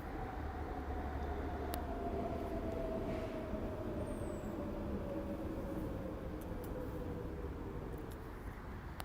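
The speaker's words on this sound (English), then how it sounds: "so I can't stop the train sounds" A train rumbles by with a steady low roar and a faint whining tone that slowly drops in pitch, heard from inside or nearby.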